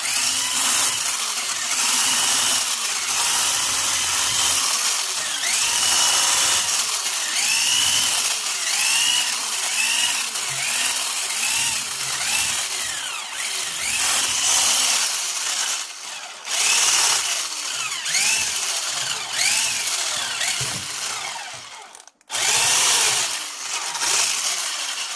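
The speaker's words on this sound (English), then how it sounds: "I'm going to take and whisk it a little bit more." Electric hand mixer whisking hardened shea butter for a whipped oil-based body butter, a steady loud whirring drone with rattling, scraping beater contact throughout, one brief cutout near the end before resuming.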